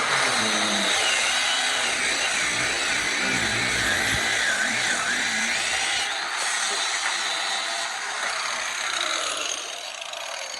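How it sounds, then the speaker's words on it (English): A Makita power socket tool spins off ground bolts on a 351W engine in a 1994 Ford truck, a continuous loud whirring buzz that runs steadily with only slight dips and no talk over it. "We're gonna use our Makita socket and take those off real quick."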